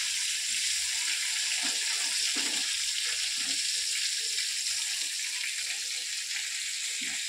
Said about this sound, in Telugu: తర్వాత ఫ్రై చేసుకోవాలి.